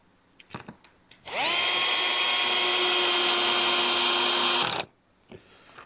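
A cordless power driver running screws into a wooden post, a loud, close whine that rises as it spins up and holds steady for about three and a half seconds before stopping, with a few knocks on either side.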